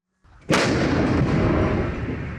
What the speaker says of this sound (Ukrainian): Екіпажу залишається навести гармату та за командою відкрити вогонь.